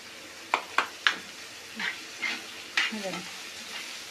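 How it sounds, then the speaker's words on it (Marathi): Onion fries in a pan with a soft sizzle, broken by a few sharp scraping stirs at the start and lighter stirring strokes later, all heard close up. "मग मी आता कांदा फ्राय करते"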